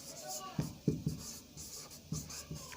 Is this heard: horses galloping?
no